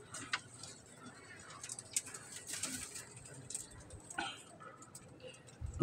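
Pigeons in a rooftop loft coo softly in short, scattered calls over a quiet background, with faint ticking and shuffling sounds nearby.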